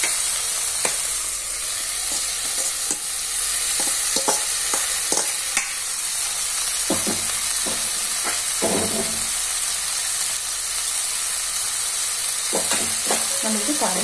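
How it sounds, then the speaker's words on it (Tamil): Fried okra tossed into a tomato masala in a pan, stirred with a ladle: a steady close sizzle and hiss carries throughout, broken by irregular scraping knocks of the spoon against the pan, with no talking. "இப்போ இந்த ஸ்டேஜில் நம்ம அந்த வறுத்து வச்சிருக்கிற வெண்டைக்காயை இதில் சேர்த்துக்கலாம்."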